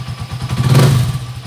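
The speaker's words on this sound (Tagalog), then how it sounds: "Napakaganda ng kalugkob ng tambutso niya." A motorcycle engine, a TMX155, revs briefly through its exhaust, a close, loud rumbling burst that swells and fades within about a second.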